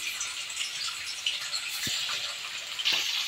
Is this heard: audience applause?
no